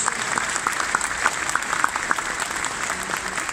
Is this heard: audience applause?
yes